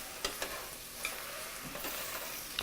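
Raspberries and blueberries stirred in hot sugar in a pan on the stove; a soft, quiet simmering sizzle with a few light spoon taps and scrapes against the pan.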